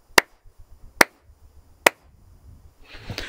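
Three sharp, close hand claps spaced about a second apart, dry and isolated, with a brief burst of hissy noise trailing at the end.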